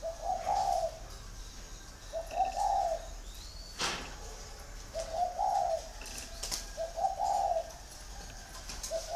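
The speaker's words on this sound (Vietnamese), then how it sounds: "Chim trống nhá, con này giọng thổ anh em ạ." A large male northern-type dove with red eyes and mottled legs, kept caged for six years, coos in a deep voice. Four rhythmic, close coo phrases repeat at steady intervals with no talking.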